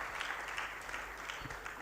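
An audience applauds in a hall at an International Customs Day ceremony, a steady dense patter of many hands clapping at moderate volume throughout.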